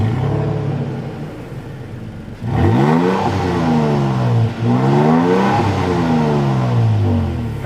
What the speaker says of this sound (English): It is a V6, but man, does it sound so much better than the Ranger.